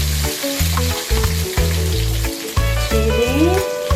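Onion, tomato, chili and garlic frying together in a pan for sambal, giving a steady sizzle that sits under loud, pitched background music throughout.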